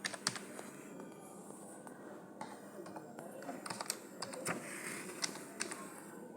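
A book title being typed on a computer keyboard, a quick irregular run of light key clicks heard up close and faint, with no talking over it.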